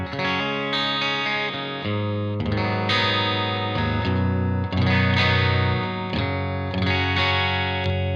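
An electric guitar through a Tonex amp modeler on a clean setting strums chords with a bright, full tone and a touch of chorus-like shimmer, played solo and fairly loud.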